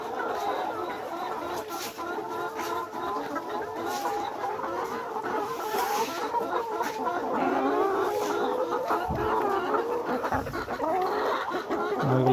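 Nourish Sebastar cross layer hens in a hot poultry shed cluck and murmur continuously, a dense flock chatter close by, with someone talking over it at times.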